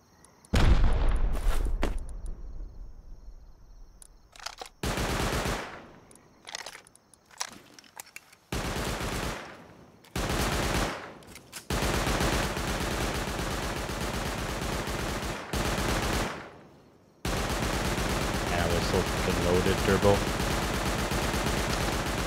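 Rocket explosions and rapid gunfire erupt during a raid in the video game Rust, loud booms and bursts of automatic fire coming in repeated heavy waves with short gaps between them.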